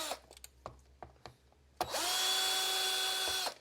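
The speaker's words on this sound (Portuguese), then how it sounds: "vamos tirar esses parafusos da parte superior para tirar apenas a tampa" A power screwdriver backs screws out of the top cover of a Xiaomi robot vacuum. A few close clicks and taps lead into a steady, high motor whine lasting almost two seconds before it cuts off.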